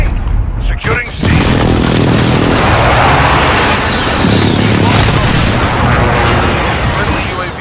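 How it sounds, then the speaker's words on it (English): Precision airstrike explosions in Call of Duty: Modern Warfare Domination, a sharp blast followed by a long, loud rumbling roar of booms and distant gunfire, with in-game voice announcements over the top. "Friendly precision airstrike on the way."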